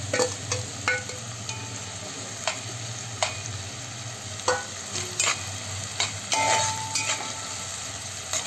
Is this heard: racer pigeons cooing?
no